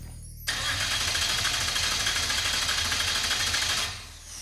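The Mazdarati project car's engine catches after a brief crank, then holds a loud, steady, rough-running idle close by for about three seconds before fading, with no talk.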